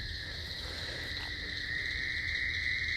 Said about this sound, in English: There's a bullfrog here.